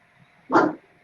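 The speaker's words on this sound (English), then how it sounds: "And the dog's awake" A dog gives a single short bark indoors, fairly close, with the start of another at the very end.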